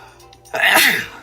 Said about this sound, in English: I gotta sneeze, man.